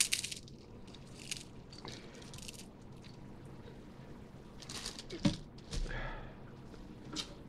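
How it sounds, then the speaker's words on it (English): Plain saltine crackers bitten and chewed close up, several quiet crisp crunches spread out over a faint background, with no talk. "saltine crackers."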